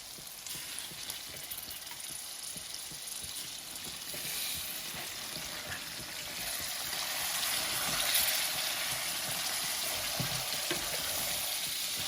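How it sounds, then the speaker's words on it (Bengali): Chicken pieces sizzle and fry in a hot pan for a Bangladeshi chicken curry, a loud, steady crackling hiss that swells slightly partway through, close up with no talking. "আমি এখন করে চিকেনের পিসগুলা দিলাই।"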